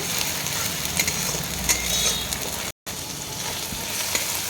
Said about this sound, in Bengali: আমি এখানে আদা রসুন বাটাটা দিয়ে দিলাম।